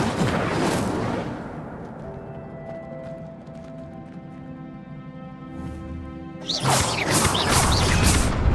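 An Incendio fire spell in Hogwarts Legacy bursts out with a sharp crackling whoosh, settles into a quieter hissing stretch, then flares again in a second loud burst near the end.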